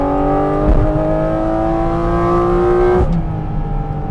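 A Porsche GT4 engine revs hard and high, holding a steady screaming pitch that climbs slightly before dropping off sharply near the end, loud and close with no talk.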